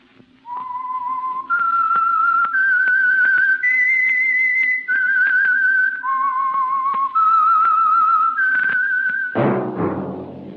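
A clear, loud whistled melody of several sustained notes stepping up and down, the opening signal of a 1946 radio drama, ending in a sudden burst of orchestral sound.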